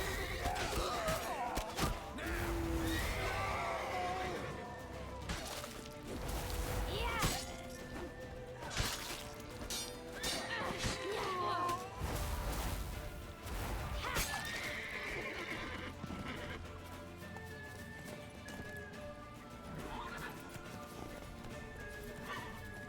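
Horse in The Witcher 3 neighs and whinnies amid clip-clopping hooves, with shouting voices, clattering and game music filling the scene, loud and busy throughout.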